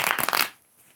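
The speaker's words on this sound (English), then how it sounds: "Do some more shuffling." Tarot cards being shuffled by hand in a short, dense riffling burst that stops abruptly about halfway through, followed by near silence.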